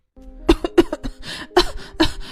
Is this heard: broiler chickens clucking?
no